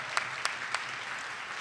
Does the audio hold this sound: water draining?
no